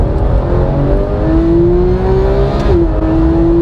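A Porsche GT3's naturally aspirated 3.8-litre flat-six revs toward 9,000 rpm, climbing steadily in pitch, briefly dropping at a gear change, then climbing again, loud and close with no talking.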